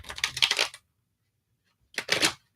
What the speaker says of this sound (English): Let me just give these another shuffle before we start.